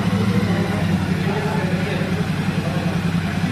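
A Royal Enfield Shotgun 650 motorcycle engine runs at a steady, close, loud idle with a deep, even low thump throughout.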